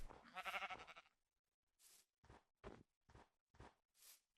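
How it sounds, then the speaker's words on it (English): A sheep in Minecraft gives one drawn-out wavering bleat, followed by a string of short, evenly spaced footstep-like thuds in an otherwise quiet scene. "Sheep."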